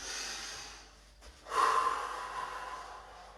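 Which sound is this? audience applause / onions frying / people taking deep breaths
people taking deep breaths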